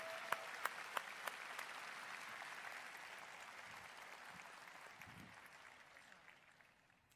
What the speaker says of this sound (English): Let's give them a big hand clap tonight.